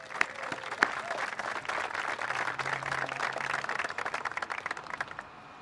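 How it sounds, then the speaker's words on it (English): Scattered claps from a modest crowd at a groundbreaking ceremony for multi-use sports fields honor Mary, fairly faint and loosely rhythmic, thinning out into a few sparse claps toward the end. "So let's give Mary a round of applause."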